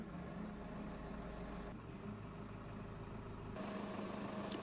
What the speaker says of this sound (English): With the control lockout lever folded down, you can now start the engine.